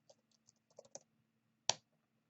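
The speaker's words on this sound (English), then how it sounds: "Typing." Computer keyboard keys tapped in a short, irregular burst of soft clicks, then a pause and one sharper, louder keystroke, close and quiet with no voices.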